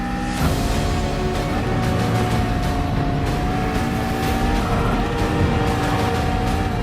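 Race cars in a racing video game on Deep Forest Raceway as an Alfa Romeo spins into the grass, with a loud, continuous engine drone and a sustained whining tone throughout.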